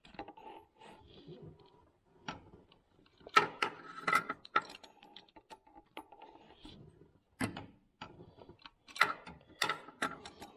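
Ratchet loosening a bolt on a 2000 Acura 3.2 TL during timing belt and water pump work, heard as irregular clicking bursts and scattered metallic clinks in a quiet garage, with several louder clusters of rapid clicks.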